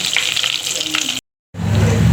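Dried red chillies, curry leaves and turmeric hit hot oil in a tempering pan and sizzle loudly, the hiss breaking off for a moment before resuming steadily.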